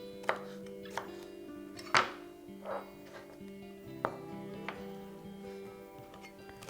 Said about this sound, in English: you can see with the green and the red one that I'm going to cut them about the same size